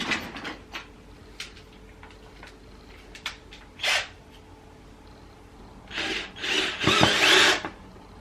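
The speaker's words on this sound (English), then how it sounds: "I think we need the drill at this point." Power drill on plywood during flat-pack furniture assembly, short whirring bursts early on, then a louder sustained drilling run near the end, close by.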